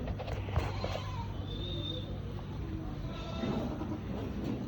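Goats bleating at an animal market with separate livestock stalls, several bleats under crowd murmur and someone talking nearby.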